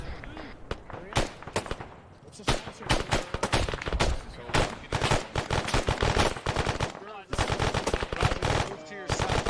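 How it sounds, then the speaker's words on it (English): Dense automatic and single-shot gunfire in the video game ARMA 3 crackles almost continuously in rapid bursts, close and loud, with brief gaps, as several players talk over it. "We see that infantry movement on that slope. We're firing."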